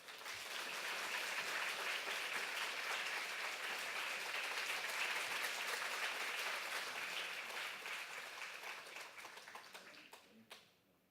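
A church congregation applauds to welcome the pastor at a Reformation 500th anniversary faith lecture, with sustained dense clapping throughout that fades near the end.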